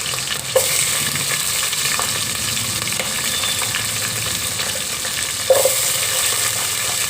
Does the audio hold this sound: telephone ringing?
no